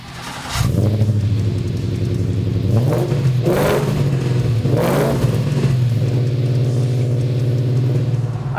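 A custom-tuned Ford Coyote V8 car, built about 1,000 pounds lighter than usual, starts off and rumbles loudly up close, its deep throb rising in a few brief revs before settling into a steady drone.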